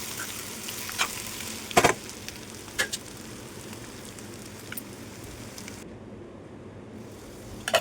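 Boiled egg pieces sizzle softly in a pan on the stove, a steady low fry with a few sharp clatters as they are stirred, no voices.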